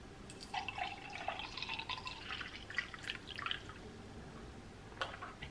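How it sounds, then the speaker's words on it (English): Coffee is poured into a Christmas mug, a faint close trickle and splash of liquid with a few light drips and clinks, quiet and without talk. "I'm gonna pour this into my Christmas mug on camera."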